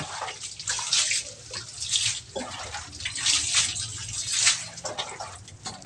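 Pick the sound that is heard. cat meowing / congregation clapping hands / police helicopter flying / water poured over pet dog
water poured over pet dog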